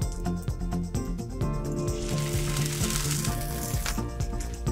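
Fish stock poured into a hot oiled pan for a mustard butter sauce, a loud close sizzle that swells into a bright hiss as the liquid hits, over background music.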